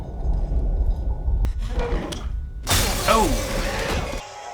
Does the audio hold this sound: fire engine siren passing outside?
no